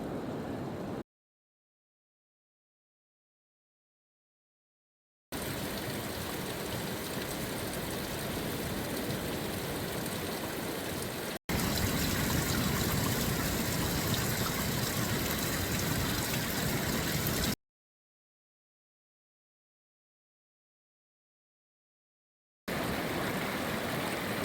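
A creek on the Oregon Coast Trail rushes in a steady, broadband flow, loud and close, broken by several stretches of complete silence between segments.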